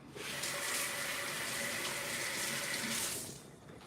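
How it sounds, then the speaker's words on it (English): A kitchen sink tap runs steadily for about three seconds while hands are washed, a close, even hiss of flowing water that fades out at the end. "I'll wash my hands real quick"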